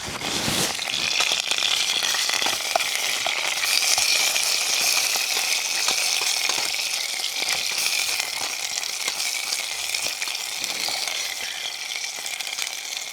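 Meat browns in a pot on a compact 3F UL camping stove for Irish stew, with a loud, dense sizzle and sputter close by. The burner hisses steadily underneath and there is no talk.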